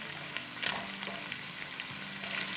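Washed, dried green chillies fry in hot oil with a steady, close crackling sizzle, a few louder spits rising briefly, for pickled mutton achar.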